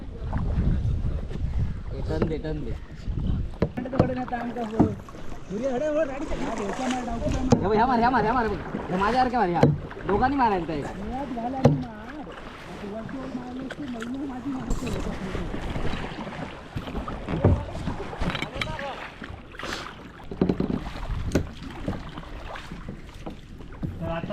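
A kayak is paddled on the sea off Vengurla beach at Khavane, with steady water and wind noise throughout while people talk over it.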